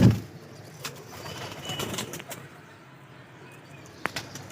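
Racing pigeons kept by a breeder give soft, faint coos and a brief flutter over a quiet room, with a sharp click near the end.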